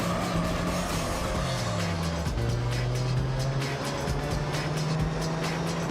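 A race car in Gran Turismo 3 lapping a track, its engine holding a steady drone that shifts pitch as it accelerates and changes gear, loud and close throughout.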